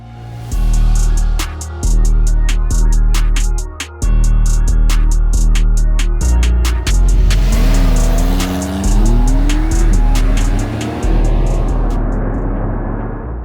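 A loud Porsche Carrera 4 sports car engine drones and revs close by, shifting through gears with rising and falling pitch, with tire noise underneath; no talking.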